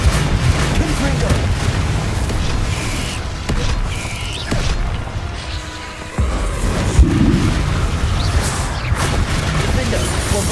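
Blasting-spell explosions and crashes in Hogwarts Legacy, loud booming bursts with creaks and debris clatter, repeated in a busy fight with several impacts over ten seconds and no quiet gaps.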